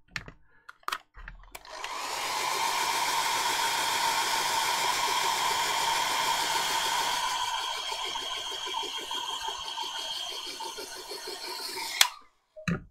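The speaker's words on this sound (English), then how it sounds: "Okay, bit of a hairdryer." A hair dryer switches on after a few clicks and blows with a steady, loud whir for about ten seconds to dry paint on a Warhammer miniature's weapon, then cuts off with a sharp click.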